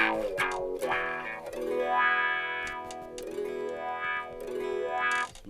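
An electric guitar plays through an Ibanez Weeping Demon wah pedal, its tone sweeping up and down in repeated vowel-like arcs over sustained chords, loud and close, with no talk.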